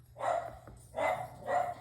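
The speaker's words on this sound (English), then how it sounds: "Excuse my dogs, they're being obnoxious." Three sharp dog barks spaced evenly apart, close and moderately loud, with a low hum underneath and no talking.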